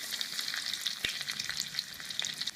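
Mustard seeds, cumin, crushed ginger and garlic crackle in hot oil for a Khandeshi brinjal curry, a steady close sizzle with scattered seed pops and one sharp crack midway.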